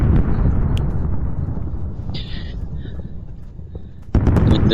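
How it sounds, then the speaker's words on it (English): Rumbling explosions and crackling fire from the Worldbox sandbox game fill the scene, a dense continuous low roar with a sharp louder burst near the end. "There's just fire and explosion everywhere."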